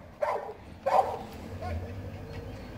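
A Caucasian shepherd dog gives two loud, sharp barks close by, followed by a softer whimpering yip and quieter background sound.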